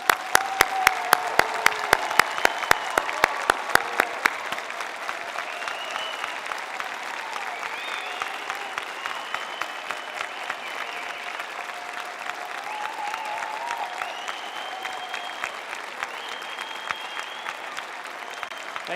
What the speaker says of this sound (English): Let's show it to them now with a round of applause.